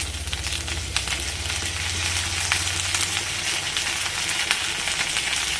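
A ground spice paste of chili powder, coriander and cumin sizzles in hot oil in a pan for a taro curry, making a steady, dense crackle and hiss up close with no talking.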